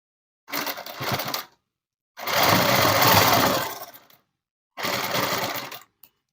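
A sewing machine stitches the shoulder of a net cloth dress in three separate bursts, a short run, a longer one and another short one, each a fast close whirring chatter with silent pauses between.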